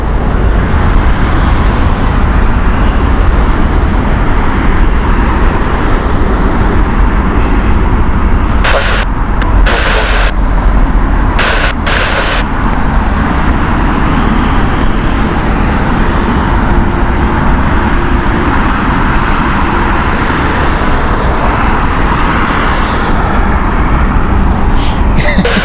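A Boeing 787-9 airliner at Heathrow Airport, loud continuous jet roar filling the scene alongside road traffic noise, with a few brief clicks and a voice faintly in the background.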